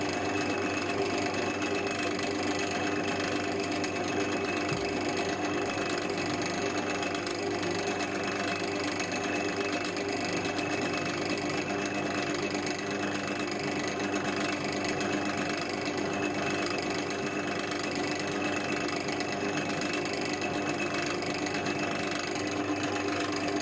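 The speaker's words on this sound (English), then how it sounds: "with this drill, it's easy possible to make all these holes in the hardened part" A CNC machine drills holes through a hardened steel axe head, giving a steady, unbroken mechanical whirring and grinding drone that stays loud and even throughout, with no voices.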